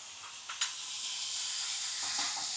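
Chopped vegetables stirred in a hot pan for a veg paratha filling, a soft continuous sizzle with a couple of scraping clinks of the spoon near the start.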